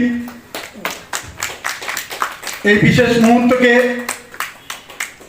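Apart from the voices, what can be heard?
audience applauding at a welcoming ceremony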